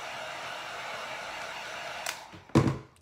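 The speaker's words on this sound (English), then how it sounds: "There's some areas that are really, really wet, so I'm gonna hit that with a heat gun." Heat gun blowing hot air over wet glue on a tumbler being crackle-finished, a steady close airy hiss with a few knocks and a louder burst near the end.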